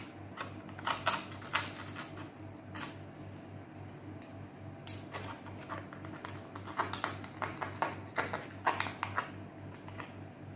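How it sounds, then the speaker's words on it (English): Small snipping and tapping cuts go around the edge of a foil tray holding a chilled no-bake Oreo cheesecake, a series of light, close crinkly clicks in irregular bursts over a quiet room. "I'm just doing small cuts all around the tray"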